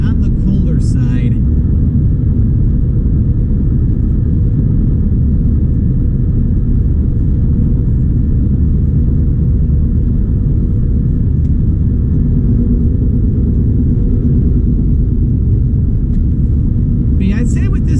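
Steady, loud low road rumble and engine drone from a car cruising Interstate 90 through the Ohio countryside, continuous for the whole stretch, with a voice talking over it.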